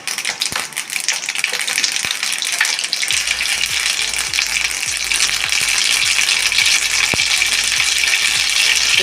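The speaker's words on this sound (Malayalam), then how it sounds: "കടുക് നന്നായി പൊട്ടട്ടെ." Mustard seeds spluttering in hot oil for a curry leaf pickle, a dense continuous sizzle with rapid crackling pops close by.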